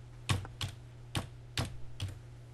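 Keys tapped on a computer keyboard to type a message into a telemetry simulator: five separate, crisp clicks spaced roughly half a second apart, close and fairly quiet over a low steady hum.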